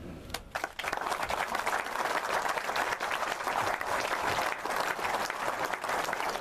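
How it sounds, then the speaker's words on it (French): Audience at a French provençal pétanque triplettes championship in Pierrefeu clapping together, a fairly faint but continuous spread of many hands with a few sharper claps near the start. "Je voudrais que eux soient particulièrement applaudis."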